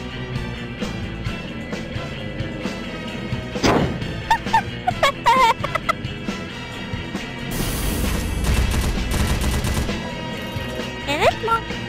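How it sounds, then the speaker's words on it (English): Rapid machine gun fire in Team Fortress 2, loud bursts of gunfire mixed with other game effects and explosions, with players talking over the action. "And this machine gun is weird."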